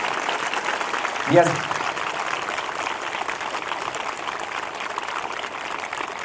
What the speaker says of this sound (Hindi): एक बार फिर से वचन के लिए जोरदार ताली बजाकर प्रभु को धन्यवाद दें।